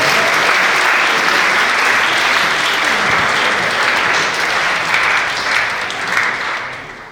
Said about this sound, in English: let's give Greg a big round of applause then, ladies and gentlemen